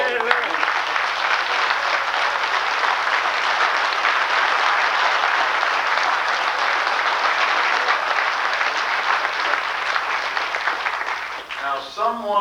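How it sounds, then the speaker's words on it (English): A loud, dense round of audience applause fills a 1993 rally hall, steady and close for about eleven seconds before thinning out as a voice begins speaking near the end. "I'd like to give Lou Upton another round of applause."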